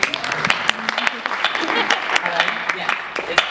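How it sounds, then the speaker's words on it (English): Applause from a university hustings audience welcoming a participant, a dense spread of claps heard nearby and steady for a few seconds, with a few voices mixed in. "Round of applause for Danny."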